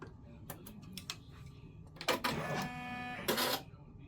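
An embroidery sewing machine runs in short stop-start bursts of rapid stitching, close by, with rhythmic mechanical ticking between longer whirring runs near the end.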